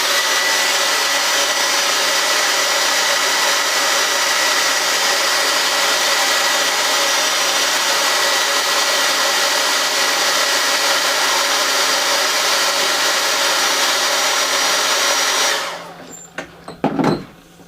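A hair dryer drying paint on an airbrushed painted piece runs steadily, loud and close, as a continuous whooshing hum for about fifteen seconds before cutting off, followed by a few faint handling clicks.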